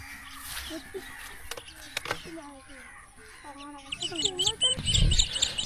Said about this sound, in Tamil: ஃபுல்லாக குருவிகள், அதே மாதிரி கிளிகளோட சத்தத்தை கேட்டுக்கிட்டு நீங்கள் நிற்கிறதுக்கு எவ்வளோ சூப்பராக இருக்குது